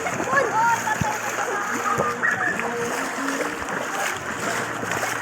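Floodwater in a rain-flooded neighborhood splashes and sloshes around submerged houses in a continuous, fairly close wash of water, while voices talk over it.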